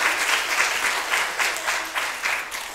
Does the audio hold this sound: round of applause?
yes